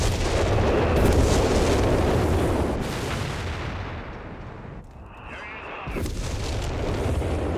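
Kanone artillery shelling an enemy base in the real-time strategy game Company of Heroes 3, a dense stretch of deep booming blasts and rumbling impacts that fades briefly mid-clip before swelling again.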